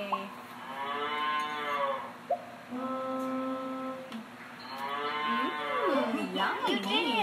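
Cattle moo in a series of deep, sustained calls, two or three long bellows close by, followed by a few shorter wavering cries near the end.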